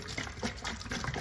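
Water pours into a container of drinking water for a parrot, mixed with vitamins, as a continuous close, gurgling trickle with no voices.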